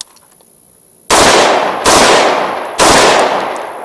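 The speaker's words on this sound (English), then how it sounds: "Let's go ahead and run a couple more rounds with it and see how she does." Three loud, close rifle shots ring out at a shooting range during testing of a Sightmark Mini M-Spec sight, spaced under a second apart, each with a sharp crack and a decaying echo tail after a quiet start.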